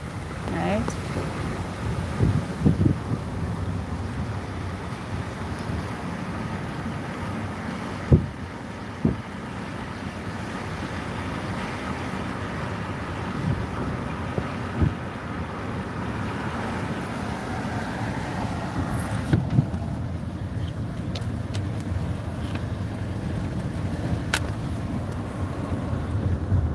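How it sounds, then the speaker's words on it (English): Strong hurricane wind from Hurricane Melissa in Kingston rushing through an open car window, a loud continuous roar and buffeting with occasional knocks, steady throughout with some background voices. "you should be able to hear that wind since we've put the window down"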